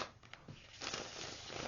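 Tarot cards shuffled by hand, a soft papery riffling and rustle, close and steady, with the texture thickening in the second half; no talking.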